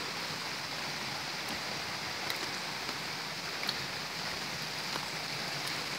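Steady flowing water at the Bath Fountain mineral spring in Jamaica, a continuous broadband rush with no pauses and no voices, sounding close and even throughout.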